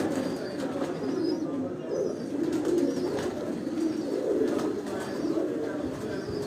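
Kept pigeons coo in soft, repeated throaty rolls close by, one call following another in a steady cycle over a low background murmur.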